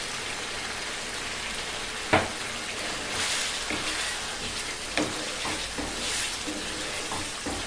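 Meat being fried for bhuna gosht sizzles loudly and steadily in a pot, with occasional clanks from a stirring spoon against the metal, close by and without talk.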